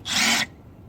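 A 12mm combination wrench loosening a tensioner bolt on a 2007 car's A/C belt drive gives one short, loud scraping rasp of metal, lasting under half a second, then stops.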